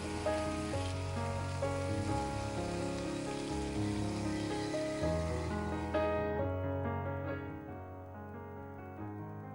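Onions and finely chopped tomatoes sautéing in a pan, giving a steady, close sizzle under continuous music that fades toward the end.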